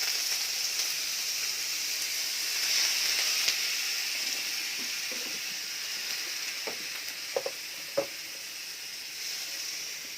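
Squid added to a pan of sautéed onion and garlic sizzles with a steady, moderate hiss, broken by a few soft clinks and stirring taps.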